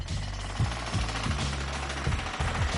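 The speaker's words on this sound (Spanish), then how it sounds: "Había algunas rajas en el hormigón y las ensanchamos con martillos hidráulicos." Rapid mechanical hammering in repeated bursts, jackhammers widening cracks in concrete with short pauses between runs, steady and fairly close.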